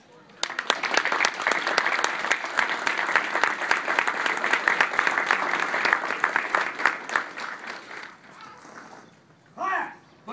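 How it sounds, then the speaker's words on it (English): Audience applause at a graduation ceremony, a dense, steady round of clapping lasting about eight seconds before fading, with a voice speaking briefly at the end. "Please join me in a round of applause."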